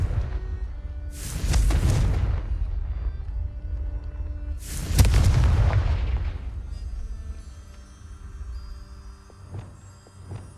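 Two heavy Confringo fire-spell explosions boom in Hogwarts Legacy, each a loud blast with a rumbling tail a few seconds apart, followed by quieter game ambience.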